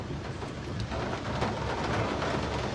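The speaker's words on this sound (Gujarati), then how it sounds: "મોરબી શહેરમાં સારો એવો વરસાદ વરસી રહ્યો છે" Heavy rain pours down over Morbi city, a dense, continuous broadband hiss with a low rumbling undertone, steady and loud from start to finish.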